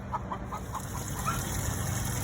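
A protective hen sitting on her eggs in a backyard city coop clucks in a string of short, evenly spaced calls over a steady background hum.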